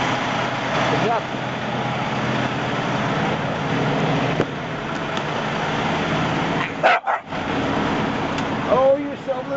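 A dog barks inside a truck at a travel center, a few short barks mixed with engine rumble, and a person talks over much of it.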